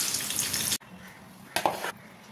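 Oil sizzles and crackles steadily as eggplant fries, broken by a brief pause, then a louder burst of spattering and stirring.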